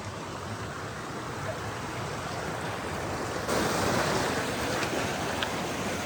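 Waterfall water flows and crashes in a forest beside a village, a dense continuous roar that swells louder halfway through, close and unbroken.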